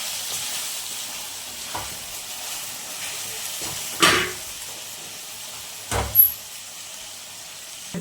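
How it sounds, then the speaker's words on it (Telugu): Chicken pieces for pickle frying in oil, a continuous moderate sizzle with a few louder bursts and spatters as the meat is stirred, no voices. "ఇదిగోండి ఇప్పుడు ఇక్కడ వేగుతుంది మాంసం."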